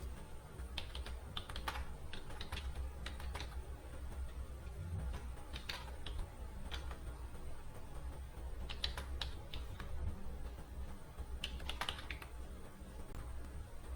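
Someone types an email address on a computer keyboard, giving quiet bursts of quick key clicks separated by short pauses, over faint steady room hiss.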